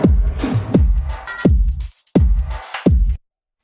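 Drum loop with hi-hats in a dark Berlin School electronic track: punchy kicks and snappy hits in a driving rhythm with bright hi-hat sizzle on top, loud and close, stopping abruptly at the end.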